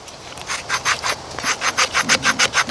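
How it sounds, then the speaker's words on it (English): The 90-degree spine of an LT Wright JX2 Jessmuk knife scrapes tinder in quick, rhythmic rasping strokes, close and loud, speeding up into a steady back-and-forth series toward the end. "this thing has a really good 90-degree spine on it, so see how well this thing scrapes some"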